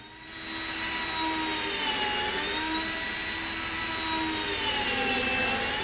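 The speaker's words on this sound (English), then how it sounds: "clean out the bore with heavy grit sandpaper and this jury rig flap sander" A jury-rigged flap sander with heavy-grit sandpaper spins inside a worn rifle barrel bore, giving a loud, continuous whirring whine with a steady rising and falling pitch, close and alone.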